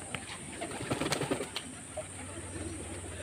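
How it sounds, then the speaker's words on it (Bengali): Pet pigeons on a house rooftop give soft, low coos among faint rustling and a few wing flutters, quiet and somewhat distant against a steady background hum. "পায়রাগুলো দেখুন এই সেই ভেতরের গেট দিয়ে কেমন ঝোঁক মারছে নামবে বলে।"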